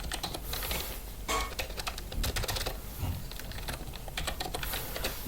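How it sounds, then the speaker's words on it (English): Someone types on a computer keyboard into a search bar, a quick irregular patter of close, crisp key clicks that runs steadily with brief pauses. "Then up here on the search bar we're going to type Azemux."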